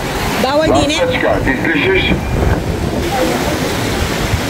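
Waves break at Tantura beach in Israel, a steady loud wash of surf under wind rumble on the microphone, with a voice talking over it near the start.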